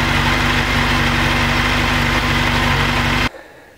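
A Honda CBR 1000F SC24 motorcycle, recently started after weeks of standing, idles loudly and steadily up close with a deep, even rumble before the engine cuts off abruptly, leaving near silence.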